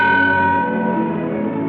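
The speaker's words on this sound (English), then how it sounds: "Sound the bell once." A ship's bell is struck once, its single sustained ringing tone fading slowly with no other sound around it.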